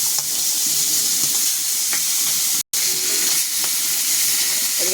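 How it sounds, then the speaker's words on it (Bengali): A hilsa fish head drops into hot oil in a wok and fries with a loud, continuous sizzle and crackle, broken by one brief gap of silence midway. "তেল গরম হয়ে গেছে, দিয়ে দিলাম মাছের মাথাটা।"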